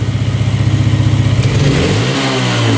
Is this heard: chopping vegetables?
no